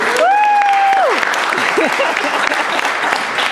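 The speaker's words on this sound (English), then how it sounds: "give yourself a great round of applause" Graduation ceremony audience applauds at length, a dense, steady wash of clapping that holds loud for the whole stretch, with a few voices calling out briefly near the start.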